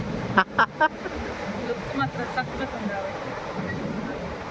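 Rainy-season sea waves at Kapu beach give a constant broad rush of surf beneath someone speaking, and a few sharp bursts stand out near the start.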